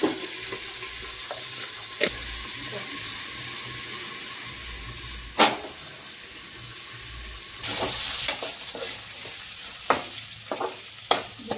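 Green chillies with a pinch of turmeric sizzle steadily in hot oil, a continuous close frying hiss punctuated by sharp pops and spatters, with occasional stirring clinks.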